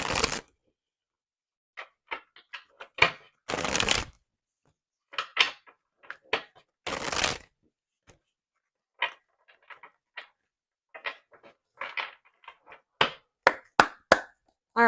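A deck of oracle cards is handled and shuffled, with sparse taps and clicks broken by a few longer rustling bursts and silent gaps between them, close and fairly quiet.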